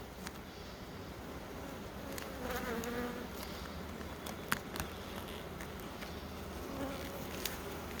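Honey bees buzz steadily and densely throughout, a close, continuous drone from an open hive during a full national hive inspection, with faint clicks and no talking.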